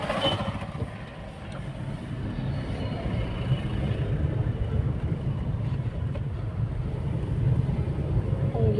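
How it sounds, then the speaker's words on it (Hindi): Steady morning wind on a balcony buffets the microphone with a low, continuous rumble that rises and falls slightly, with no voices. "सुबह सुबह बालकनी में हवा चल रहा है पूरा।"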